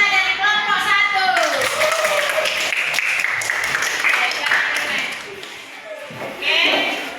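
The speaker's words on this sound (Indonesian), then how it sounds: "ayo kita sama-sama kasih aplaus untuk teman kita dari kelompok 1" A crowd applauds group 1 at a school event, with dense continuous clapping filling the whole stretch and voices and shouts mixed in, swelling again near the end.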